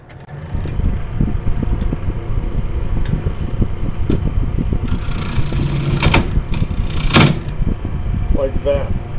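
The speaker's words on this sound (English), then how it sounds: "I'm just gently trying to get rid of these ridges and everything. As I said, I'm just using my bowl gouge." A bowl gouge cuts a Baltic birch plywood bowl spinning on a lathe, giving a steady close scraping drone with bursts of harsh bright chatter as the tool catches, while a voice talks over it.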